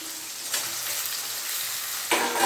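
Whole slit okra hits hot oil in a pan, giving a steady broadband sizzle that swells sharply when the pods go in, with a second louder burst near the end; no voices.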